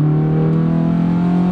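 A Honda S2000 (AP2) engine is revved hard at high RPM near 8,000, a loud sustained tonal wail that holds steady and then cuts off abruptly.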